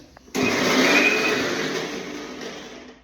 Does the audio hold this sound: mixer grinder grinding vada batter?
yes